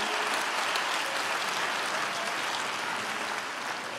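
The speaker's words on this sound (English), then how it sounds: "let's give our fathers a big round of applause." A church congregation applauds at a Sunday service, steady dense clapping filling the room for the whole stretch without a break.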